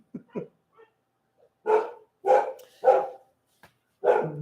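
A dog that may be a corgi barks indoors: a couple of quick yips, then four loud, evenly spaced barks, each clearly separated by silence.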